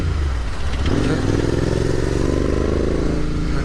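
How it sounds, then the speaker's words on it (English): A Royal Enfield Continental GT650 twin riding along, its engine a loud, steady drone with a rising pitch as it accelerates, plus rushing wind noise throughout. "just going for a small spin on my GT650."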